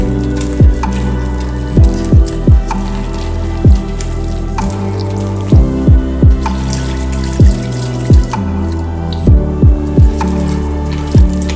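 Water poured slowly into gram flour batter for boondi laddu: a series of distinct liquid plops and gurgles, some in quick clusters, close and fairly loud, with no talking.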